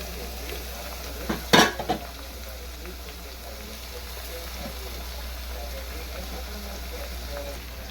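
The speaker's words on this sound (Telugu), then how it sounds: "బీరకాయ టమోటా రెండు అన్నీ వేసేస్తున్నాను" Ridge gourd and tomato pieces drop into a hot pan and fry with a steady soft sizzle, a brief clatter of stirring near the start, then quiet continuous frying under a faint background hum.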